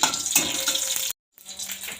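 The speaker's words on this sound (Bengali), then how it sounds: "শুকনো লঙ্কা দিয়ে দিয়েছি" Dried red chilies fry in a little oil in a bowl-like pan, giving a steady close crackling sizzle that breaks off briefly to silence, then resumes a bit softer.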